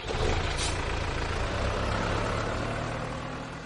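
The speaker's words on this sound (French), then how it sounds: "Chaque jour, Fleur monte dans son beau tracteur pour surveiller ses champs de fleurs." A cartoon tractor driving, a steady broadband engine rumble with a low idling drone and hiss, continuous and moderately loud, easing slightly toward the end.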